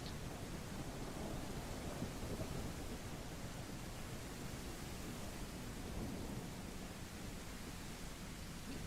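Deep continuous rumbling thunder with a broad hiss of wind and snow in the snow-plowing game Snow Plowing Simulator, a steady loud roar that barely changes from start to finish.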